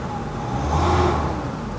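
A used Nissan Navara Calibre NP300 pickup engine revved lightly while parked, a loud close droning hum that swells briefly in the middle and settles back to idle, heard alone with no talk.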